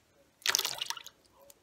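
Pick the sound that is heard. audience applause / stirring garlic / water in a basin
water in a basin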